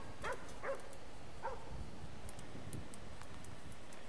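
Dog barks in a video game, three short yips spaced about a second apart early on, moderately close, over a steady background hum with faint ticking afterward.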